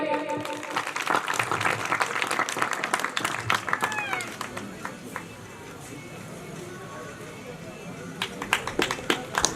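An audience at a village award ceremony claps for a student's good 10th and 12th grade results, a burst of mixed applause that thins out and then picks up again, with a voice speaking over it.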